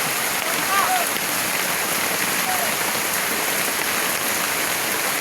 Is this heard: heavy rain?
yes